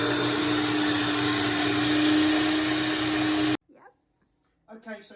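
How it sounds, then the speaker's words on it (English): A kitchen blender whirs loudly and steadily while blending garlic and chilies, a harsh motor roar with a constant hum, then it stops abruptly, leaving brief quiet and a few soft handling sounds. "And stick it all back in the blender."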